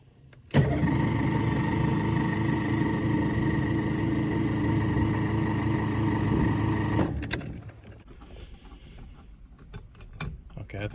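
A cold 1966 Ford Mustang with a 289 V8 cranks hard and loudly for about six seconds, then the sound cuts away to a much quieter, uneven background with light clicks.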